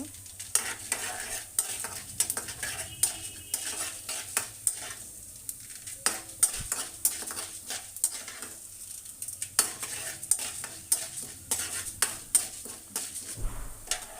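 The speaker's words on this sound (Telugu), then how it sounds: "వేసి వేపుకోవాలి మినప్పప్పు కొంచెం దోరగా అయిన తర్వాత" Urad dal fries in a pan, a soft steady sizzle broken by repeated sharp clinks and scrapes of a spoon against the metal, close and with no talking.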